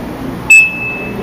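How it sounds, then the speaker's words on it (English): An answering machine gives one short, clear electronic beep, a brief tone that fades into quiet room hiss. "Please leave the message after the beep."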